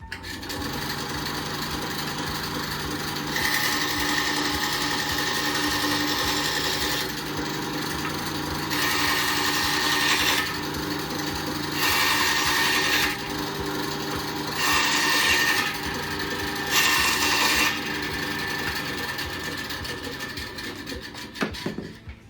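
A Ryu RBS 8 eight-inch bandsaw cross-cuts a piece of wood. A steady, fairly quiet motor hum and whir carries throughout, with several brighter, louder rasping bursts of a few seconds each as the blade passes through the wood.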